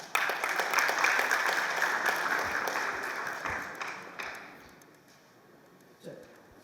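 Applause from the audience at a professional chapter event in Abu Dhabi swells at the start, holds as steady clapping, and then fades away toward the end.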